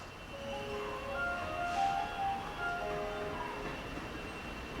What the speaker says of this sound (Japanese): まもなく電車が到着します。